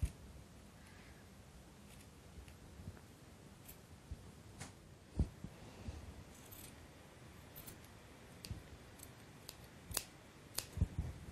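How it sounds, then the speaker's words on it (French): Scissors snipping through t-shirt fabric, cutting along a sewn shape about 5 mm inside the outline; quiet, irregular small clicks and cuts with soft rustling, a few sharper snips standing out, no talking. "On va maintenant découper le long de la forme à 5 mm vers l'intérieur de la forme"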